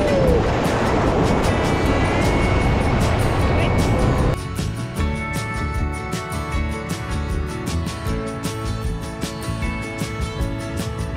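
A raft runs through river wave trains on the Colorado River in Ruby Horsethief Canyon, loud rushing and splashing water dominating at first, then settling into a lighter churn with scattered splashes and knocks.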